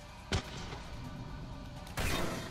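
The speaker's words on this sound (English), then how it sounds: "I should not be shooting her with this gun. This is a shotgun." Two heavy shotgun blasts in Mass Effect 3, one early and one near the end, each a sharp broadband boom with a short tail, over low background game noise.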